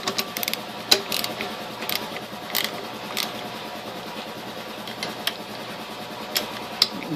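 Bolts being tightened on a Craftsman 20-gallon air compressor with a ratchet, giving quiet, irregular mechanical clicks and ticks with a few sharper snaps, close up and without talk.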